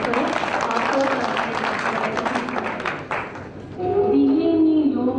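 A crowd at an event in Jammu claps loudly to welcome the chief guest, with steady applause for about three seconds before a voice begins singing or speaking over quieter background noise.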